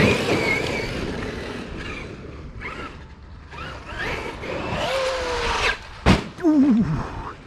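A Traxxas X-Maxx RC monster truck with a cracked shell bashing hard outdoors, its motor whining and rising in bursts as it launches, with thumps and a sharp crash of a hard landing near the end.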